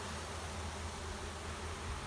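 A dense mass of honeybees being installed from a package into a hive keeps up a steady, even buzz that fills the whole stretch with no pauses and no voices.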